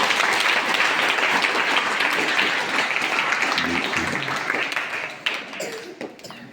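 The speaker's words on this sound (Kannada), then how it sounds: "ಆ ಹಿರೇಮಠ ಪರಿವಾರದವರಿಗೆ ಚಪ್ಪಾಳೆ ತಟ್ಟಿ ಎಲ್ಲರೂ ಅಭಿನಂದಿಸಿದ್ದಾರೆ" Dense, steady applause from a group of students at a monastery birthday gathering honouring the Hiremath family, loud and continuous before tapering off near the end.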